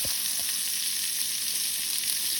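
Peppers, onions and butter sizzle steadily in a pan for southern fried cabbage. The loud, even hiss of frying is close by and continuous, with a faint clink near the start and no voices.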